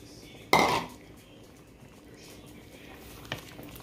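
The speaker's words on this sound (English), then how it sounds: "I'm just going to thicken it up with some instant mashed potato flakes." A pot clatters sharply as it is stirred while instant mashed potato flakes thicken a dish on a slow cooker's low setting, one loud metallic knock of utensil on cookware followed by quieter scraping and a faint tap later.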